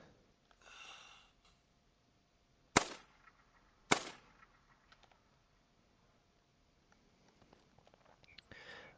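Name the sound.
gunshot at a mule deer in theHunter: Call of the Wild video game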